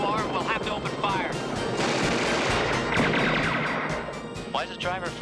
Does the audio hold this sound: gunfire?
yes